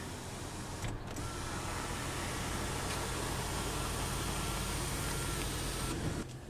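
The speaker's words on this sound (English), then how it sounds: "power sliding back window" The power sliding back window motor in a 2015 Ram 1500 Limited gives a steady electric whir inside the cab, starting and stopping with brief clicks at each end.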